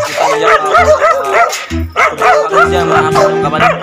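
Several big dogs at a house bark loudly and repeatedly in close, overlapping bursts. Their yips and whimpers mix in, and a voice sounds faintly in the background.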